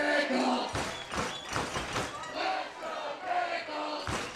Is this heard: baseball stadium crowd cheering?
yes